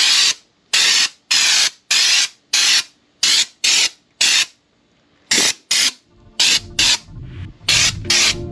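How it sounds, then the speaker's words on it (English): Fluid Film undercoating sprays under a mobile auto repair van in sharp hissing bursts, about a dozen short even blasts close by with brief pauses between, the last few quicker and rougher. "Let's see how this thing will start spraying."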